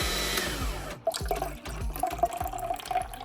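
An AMZChef 1902B juicer processes green grapes fed through its lid opening: a loud motor whine with pulsing low churning, then wet crunching and squishing bursts as the fruit is pressed.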